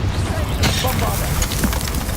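A Bombarda spell in Hogwarts Legacy bursts with a dense, booming blast amid game combat noise, loud and close, briefly swelling then rumbling through its short length.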